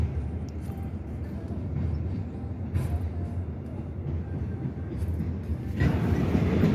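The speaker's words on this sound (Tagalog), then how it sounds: "So, where this train going? It's going west." A BNSF freight train rolls westbound through Chicago with a steady low rumble and rattling of cars, fairly close and continuous, with a few higher squeals and clanks rising near the end.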